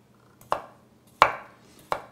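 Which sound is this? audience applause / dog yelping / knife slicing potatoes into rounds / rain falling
knife slicing potatoes into rounds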